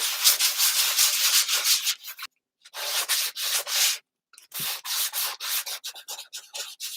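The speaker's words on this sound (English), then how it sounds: "Be careful not to sand my letter." Sandpaper rubs hard on a typewriter cover in quick back-and-forth strokes, loud and close, in several bursts separated by short silent breaks.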